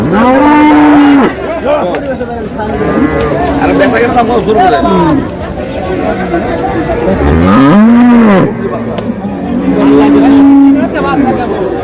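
Dairy cows and calves moo loudly and repeatedly at a busy rural cattle market in Dinajpur, Bangladesh, with long drawn-out calls rising over a constant hubbub of traders talking and bargaining nearby.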